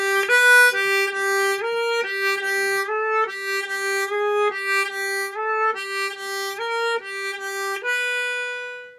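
Harmonica in C playing a slow bending exercise that starts on the 3-hole blow, with clear sustained notes that slide in pitch through a repeating stepped pattern, close and solo with no talking.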